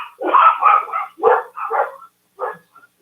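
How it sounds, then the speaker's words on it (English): Several dogs barking in quick irregular bursts, loud and close, with short gaps between volleys and a few softer yips at the end. "Those were my dogs, sir."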